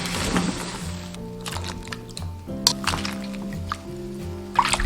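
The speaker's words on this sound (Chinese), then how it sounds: "捞起来立即过凉水" Boiled pig trotters rinsed under cold running water in a kitchen, with a steady splashing, sloshing stream and occasional drips and knocks of meat against the pot, close and continuous throughout.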